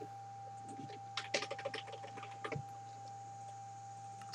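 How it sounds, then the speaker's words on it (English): A burst of quick clicking keystrokes on a computer keyboard, close and moderately loud, sits over a steady electronic hum, then stops and leaves the hum alone. "Sorry about the keyboard."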